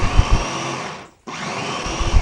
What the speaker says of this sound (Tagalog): Dahil kailangan ko nga ito ng pino, kaya i-blender ko na lang ito guys para hindi na ako mahirapan pa sa paghihiwa-hiwa nito.